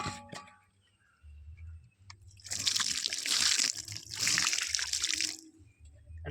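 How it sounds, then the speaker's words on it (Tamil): Water splashes over the soil around a freshly planted jasmine cutting in a garden bed, two bursts of spraying and pattering, fairly close, with quieter gaps between them and no talk. "இது தண்ணி தெளிச்சிக்கலாம்."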